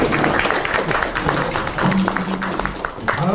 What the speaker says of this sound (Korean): 모두 다시 한번 박수 부탁드리겠습니다